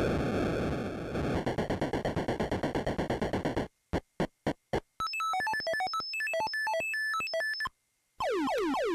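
A rapid series of electronic bleeps and tones from Missile Command on the Atari 2600 signaling a bonus past 10,000 points, stuttering buzzes then quick melodic chirps and a descending warble.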